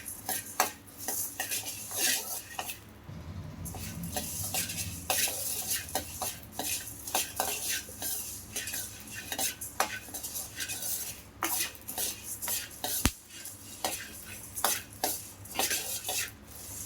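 Coriander seeds dry-roasting over low to medium heat in a pan while making sambar powder, with steady scraping stirs and light metallic clinks of a spatula against the pan, close and continuous with no talk.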